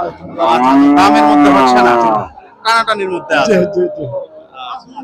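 A Holstein Friesian cow at a busy cattle market lows in a long, loud moo, followed by a few shorter, broken calls close by.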